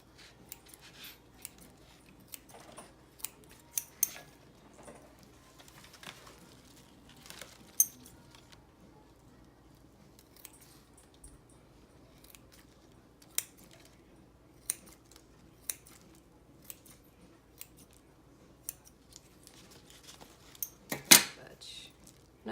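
Scissors make scattered light snips and clicks while cutting philodendron roots, quiet and close, in irregular bursts over faint background noise, with a louder cluster of snips near the end.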